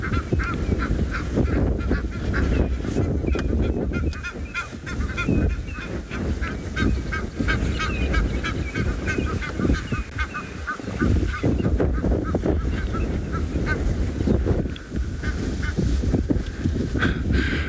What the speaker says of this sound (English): listening to the backing track of the Egyptian geese in the background